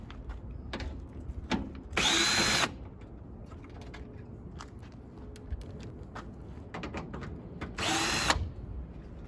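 A power drill spins out 10mm bolts holding a headlight assembly on a third-generation Toyota Tacoma, with two short, loud whirring bursts among quieter clicks and handling noises close by.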